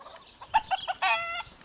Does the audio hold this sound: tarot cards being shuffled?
no